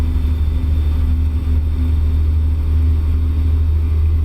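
A truck engine in a driving video game gives a loud, steady, low drone that holds evenly throughout, with no talking.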